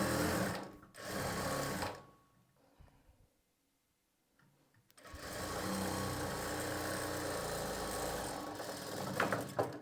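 A sewing machine stitches lining to main fabric in close, loud bursts of rapid mechanical whirring, pausing for a couple of seconds midway before a longer steady run.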